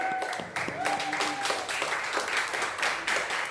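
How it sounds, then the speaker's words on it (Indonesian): An audience at a cosplay competition gives a sustained round of clapping for the judges, with a voice over a loudspeaker running through it. "Kasih aplaus lagi buat juri"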